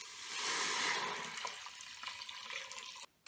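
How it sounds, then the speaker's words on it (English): Water pours steadily into an Instant Pot, a bright splashing stream swelling early then continuing as a softer trickle before stopping abruptly near the end; fairly close and quiet. "now we're gonna go ahead and pour in 5 cups of water"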